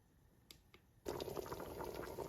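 Running water with brown beans being rinsed, a steady splashing wash starting abruptly after a quiet lead-in with a couple of faint knocks, then continuing close and even.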